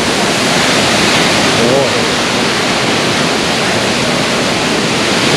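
The 40-metre Yung Thong waterfall, fed by a forest stream in a national park, roars loud and close as a dense, unbroken rush of falling water.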